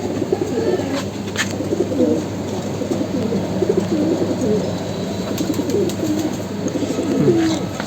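Many army pigeons cooing together in a village loft, a continuous overlapping chorus of throaty coos at close range with no voices.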